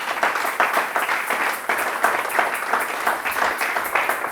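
Congregation applauding the Lord during a church service, a dense, steady wash of many hands clapping together, loud and continuous throughout with a faint rhythmic pulse.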